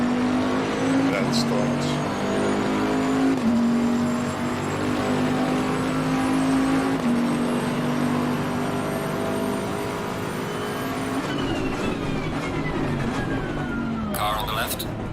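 Race car engines roar together in Assetto Corsa Competizione multiplayer at the race start, a loud, steady, layered drone with shifting pitch lines as the cars accelerate away. Someone talks over it throughout.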